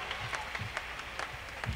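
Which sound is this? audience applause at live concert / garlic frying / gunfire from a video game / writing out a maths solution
audience applause at live concert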